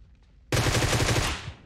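Groza assault rifle in PUBG Mobile fires a loud, rapid full-auto burst lasting just over a second after a quiet lead-in, shots evenly spaced and close, with no recoil control applied.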